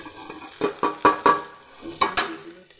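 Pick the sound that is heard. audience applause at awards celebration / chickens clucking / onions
onions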